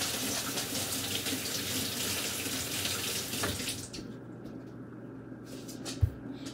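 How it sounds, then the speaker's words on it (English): Running tap water pouring steadily into a sink while hands are rinsed under it, close and fairly quiet, then stopping abruptly near the end, followed by a single soft knock. "I'm just gonna rinse them off."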